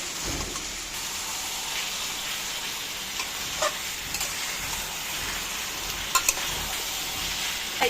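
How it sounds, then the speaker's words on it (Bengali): Fried chicken pieces sizzle steadily in a pan of spice paste, a dense, even crackle with a few brief stirring scrapes, close and alone without talk. "এখন আমি দিয়ে দিচ্ছি ভেজে রাখা মাংসের টুকরোগুলো।"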